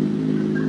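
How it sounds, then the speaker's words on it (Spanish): Motorcycle engine running close by: a steady, loud, low droning hum that holds an even pitch for the whole moment. "me voy a quedar durmiendo aquí con el sonido de la moto tuya"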